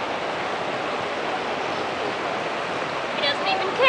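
A garden hose sprays water steadily over a dog during an outdoor bath, a broad continuous hiss close by that swells slightly at the end, with a faint voice under it.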